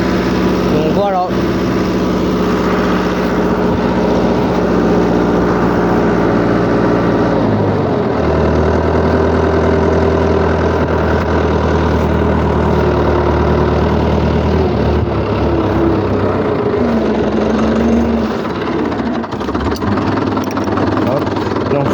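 A tractor engine runs at a steady, loud idle during maize hoeing in a field, with a shift in its tone partway through as it drops into first gear, and a voice comes through at times.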